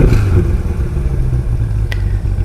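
A 2021 C8 Corvette engine with the MPP exhaust rumbles at a steady idle, a loud low droning burble with no talk.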